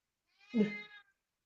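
A cat indoors during a podcast recording lets out one clear, close meow of under a second, with no talk over it.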